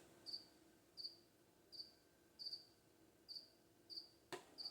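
A cricket chirps indoors in a steady rhythm, roughly once per second, with a brief knock partway through.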